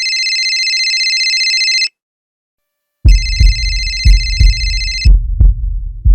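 A telephone rings through two spaced bursts of a bright electronic ring, separated by a short silence, with deep rhythmic thumping under the second burst, during a call in a crime drama.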